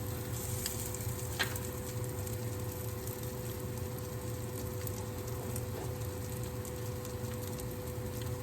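Salmon croquettes fry in a pan with a low, even sizzle under a steady background hum, quiet and unbroken, with no one speaking.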